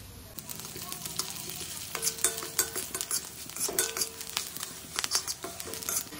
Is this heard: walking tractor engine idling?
no